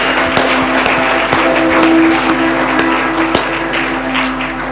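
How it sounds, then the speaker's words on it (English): Applause from a church congregation at a Sunday morning service, a steady broad wash of clapping filling the room for the whole stretch with a few sharper claps standing out. "Give him another big round of applause this morning."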